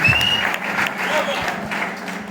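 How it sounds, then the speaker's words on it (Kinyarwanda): A crowd at a church youth gathering and concert claps in steady, moderately loud applause that fades slightly, with a voice speaking over it. "Mukomereze amashyi cyane."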